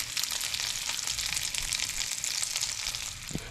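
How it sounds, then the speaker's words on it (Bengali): Black cumin seeds and two green chillies crackle and sizzle in hot oil left over from frying pomfret, a steady dense frying hiss throughout with a brief sharper pop near the end, close by and with no talking. "মাছ ভাজার তেলে আমি প্রথমে দিচ্ছি কালো জিরে একটু ফোড়নে, আর তার সাথে দিচ্ছি 2টো কাঁচা লঙ্কা।"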